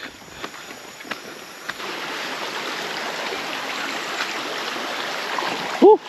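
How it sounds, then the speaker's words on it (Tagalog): Tamulaya Falls on Polillo Island in Quezon Province roars as a steady wash of falling water, heard from a short distance with a few faint knocks early on and a brief sharp sound near the end. "Narinig ko na yung falls."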